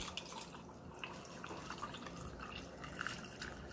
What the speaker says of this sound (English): I'm just gonna add some distilled water or any water of your choice.